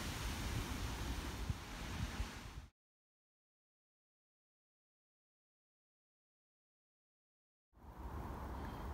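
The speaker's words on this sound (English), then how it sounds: "Very windy today," Gusty wind buffets the microphone with a heavy rumble, cuts to silence for several seconds, then the blustery roar returns.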